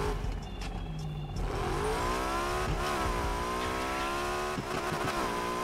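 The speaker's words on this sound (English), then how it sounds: "when it went from second to third, it did a stutter" A Pagani Huayra engine in the racing game Need for Speed Heat, revving hard and climbing through the gears with a break between shifts, a loud continuous synthetic roar throughout with no talking.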